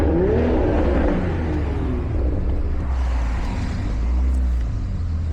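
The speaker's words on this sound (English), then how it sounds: "Rev again so I can get it on video?" BMW M340i engine revving close by, a loud throaty rise in pitch that settles into a steady idle-like rumble, with traffic noise around.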